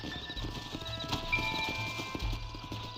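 Horses in the Red Dead Redemption video game clop along as riders dismount, with a brisk, fairly close run of hoofbeats on hard ground under low game ambience.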